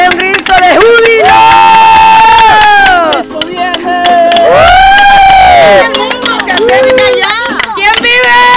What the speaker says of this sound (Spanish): ¡De un grito de júbilo!